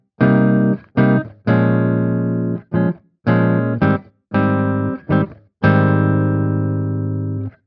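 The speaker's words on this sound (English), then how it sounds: "Here's a higher gain tone on the bridge position this time." Shreddage 3 Hollomatic virtual electric guitar played with a high-gain tone on the bridge pickup, a run of loud distorted chords and notes in separate bursts, some ringing out and some cut short, with no voices.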